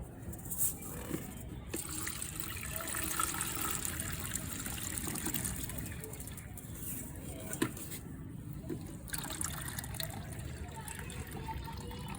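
Water drains and trickles steadily from soaked cocopeat as it is strained at home, a soft continuous dribbling with a few faint knocks.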